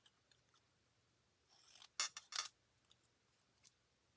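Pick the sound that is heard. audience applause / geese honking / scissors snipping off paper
scissors snipping off paper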